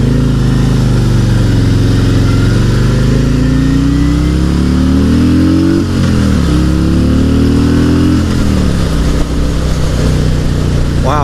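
A 2018 Harley-Davidson Road King Special with the Milwaukee 8 107 V-twin pulls hard through the gears, a loud close deep engine roar climbing in pitch, dipping at each shift and climbing again.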